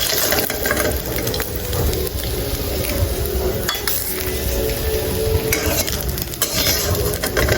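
Small puti fish fry in hot oil with a dried chilli, a loud, close, continuous crackling sizzle with occasional clinks and scrapes of a spatula against the pan.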